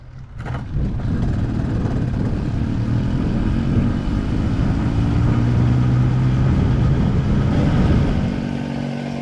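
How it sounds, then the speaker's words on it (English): A Motobecane Moby-X1 folding French moped with a 49cc engine rides along, its small motor giving a steady, close buzzing drone that holds level for the whole stretch, with no talk. "It is only a 50cc or 49cc engine, like all mopeds in my country"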